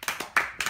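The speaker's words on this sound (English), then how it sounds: "Need some applause." A handful of slow, separate hand claps at a memorial service, four distinct claps spaced unevenly over less than a second, close and fairly soft, like a small group starting to applaud.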